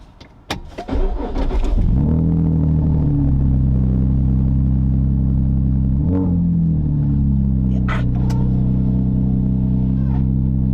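A car engine cranks and catches after a few clicks, then settles into a loud, steady close idle with a brief rev partway through and another small throttle blip near the end.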